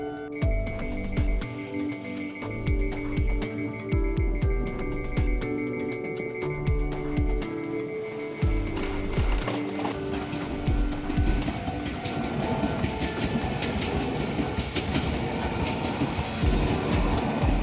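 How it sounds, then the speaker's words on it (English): A Japanese railroad crossing bell clangs repeatedly in a steady rhythm as a train rumbles past, the roar of wheels growing louder and denser toward the end. "Alarm will remain ringing until the railroad crossing opens."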